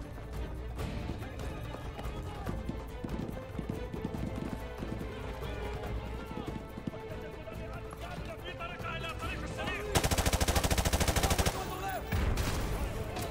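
Dense gunfire in the Call of Duty: Modern Warfare 2 Campaign Remastered, rapid continuous shots layered with hoof-like clatter and battle noise, swelling into a loud, sustained automatic burst near the end.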